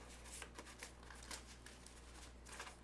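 Playing cards being shuffled at close range in a quiet room, a run of quick crisp riffling and flicking bursts with no talking.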